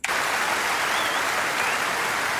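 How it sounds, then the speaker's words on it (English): A large crowd applauds, dense continuous clapping that starts abruptly and stays loud and even throughout. "Give her an enormous applause."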